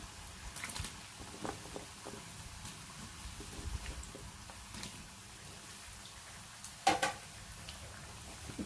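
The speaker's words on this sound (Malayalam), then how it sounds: "ഇനി നമുക്ക് തീ കുറച്ചിട്ടിട്ട് ഈ കുറേശ്ശെ ഇട്ട് വറുത്തെടുക്കാം" Raw banana pieces fry in hot oil over a low flame, a faint, steady crackle and sizzle with scattered small pops and one brief louder burst of spatter near the end.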